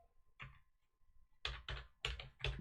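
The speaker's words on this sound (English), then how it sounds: "tabbing across and typing localhost." Keys tapped on a ThinkPad T430 laptop keyboard: a single key, a pause, then two quick pairs of clicky presses, close and quiet.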